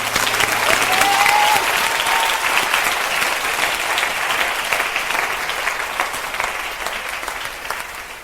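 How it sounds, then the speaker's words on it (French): A church congregation applauds in steady, loud, dense clapping from beginning to end, fading only slightly toward the close, with a few faint voices underneath. "Si tu crois, acclame le Seigneur."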